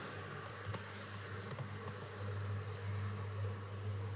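Commands are typed on a computer keyboard, a few quiet irregular key clicks over a low steady hum, with no speech.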